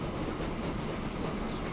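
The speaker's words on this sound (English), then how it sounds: "Passenger train comes to a halt." A passenger train in the Transport Fever 2 simulation game comes to a halt, with a steady rumbling rail noise and a thin high brake squeal held throughout.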